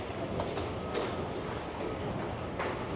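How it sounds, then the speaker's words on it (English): A subway train rumbles through Ossington station in Toronto, a low steady roll with faint rail clatter and a few brief squeaky peaks, moderately quiet and heard without speech. "I'm currently inside Ossington subway station"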